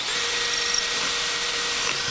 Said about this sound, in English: All right, so we'll drill the hole.